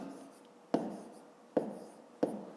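A pen writes numbers on paper for a column subtraction, giving three sharp tapping strokes, each followed by a short scratchy trail, close and fairly quiet with no talking.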